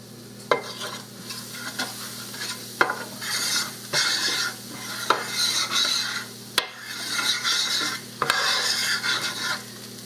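A spoon scrapes and stirs flour through hot fat in a pan for country fried steak gravy, sizzling steadily with rhythmic scraping strokes repeating every second or two, close and alone.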